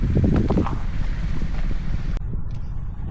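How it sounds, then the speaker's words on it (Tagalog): Strong wind roars and buffets the microphone continuously, a dense rumbling rush with brief rustling, no clear voices. "Malakas po yung hangin."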